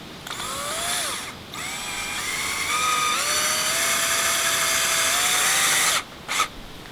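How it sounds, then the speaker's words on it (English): Power drill driving a screw into a fence post during a fence armor install, a steady whine that rises in pitch in stages as the screw seats, stopping briefly then resuming, close and alone. "So I'm going to take this and just screw it in here."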